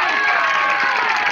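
A dense crowd at a Pakistani wrestling bout roars and claps, a continuous wall of cheering and applause that stays loud and close throughout the short burst.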